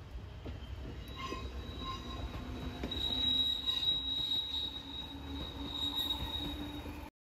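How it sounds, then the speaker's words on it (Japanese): A yellow-and-green former Keihan electric train departs Inarimachi station on the Toyama Chiho Railway, rolling away with a steady low rumble; a thin high wheel squeal rises and fades toward the end, heard at moderate distance. "稲荷町を電鉄富山行きの列車が出発しました"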